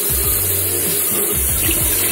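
A dirty makeup beauty blender is rinsed under a warm running faucet, giving a steady, close hiss of flowing water with no voices.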